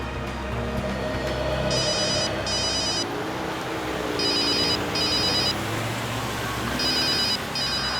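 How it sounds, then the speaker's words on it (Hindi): A telephone rings in repeated double bursts of trilling electronic tones, steady and fairly close, over a low rumbling background. "सर, आपका फोन लग रहा है।"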